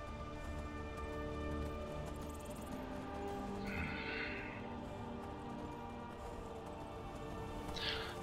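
A horse in the video game Skyrim whinnies twice amid a steady rhythmic clip-clop of hooves, with a game background bed beneath, moderately close and fairly quiet overall.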